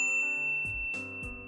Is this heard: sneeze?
no